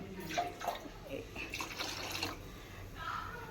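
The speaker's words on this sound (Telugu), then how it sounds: "కొంచెం వాటర్ వేద్దాం" Water splashes and trickles into a pan of Andhra-style chicken fry in a few short bursts, close and fairly quiet.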